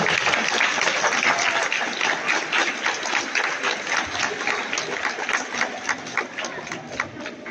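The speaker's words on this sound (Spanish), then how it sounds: "Vamos a despedirlos con un fuerte aplauso." Audience applause at an outdoor cultural event in Coacoatzintla with a giant Catrina and cempasúchil flowers: sustained, dense clapping from a sizeable crowd, slightly distant, gradually thinning toward the end.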